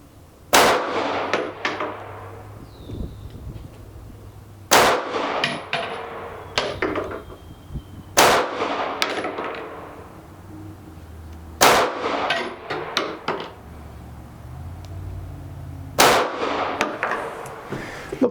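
Five sharp shots from a Smith & Wesson CSX alloy-frame micro-compact 9mm pistol, fired outdoors at a target, crack out loud and close at steady intervals of a few seconds, each followed by a brief echo and quiet handling sounds.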